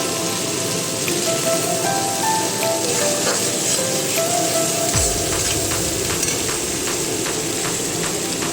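Turmeric and cumin powder frying in oil rendered from rohu fish for a Bengali cabbage dish, giving a steady, dense sizzle with crackling bursts that carries on unbroken throughout, close and fairly loud with no talking.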